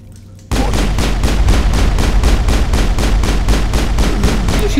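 Rapid, steady automatic gunfire from a weapon in the video game Mass Effect, loud and continuous after a brief quiet start, with no talk over it.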